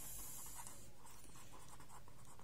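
Faint, continuous scratching of writing during a maths statistics lecture, a soft rhythmic scrape of strokes at close range with no talk over it.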